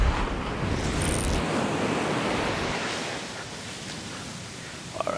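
Waves and surf roll in at Dockweiler Beach, a broad continuous wash of breaking water mixed with wind buffeting the microphone, fairly loud and steady throughout with no voices.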